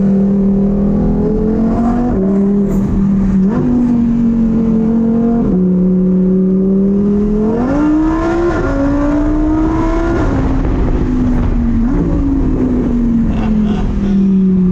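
A Lamborghini Huracan Performante drives with its windows down, its loud engine note steady and then rising through repeated revs and gear changes, close and continuous for the whole stretch.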